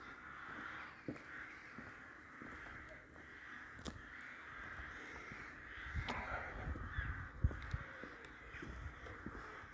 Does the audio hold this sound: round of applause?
no